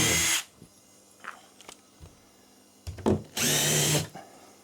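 Power drill driving a large screw into an access panel, with short loud whirring bursts at the start, in the middle and at the end, separated by quieter handling clicks and knocks, close by with no speech.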